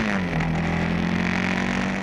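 A Yamaha XT660X supermoto motorcycle accelerating, a loud, close engine drone with a steady rising pitch after a brief dip, heard without talk.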